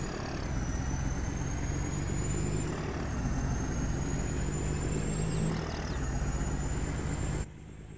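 A 1938 Mercedes-Benz truck in Farming Simulator 22 drones steadily, its engine note stepping at each gear change alongside a high whine, then cuts off abruptly near the end.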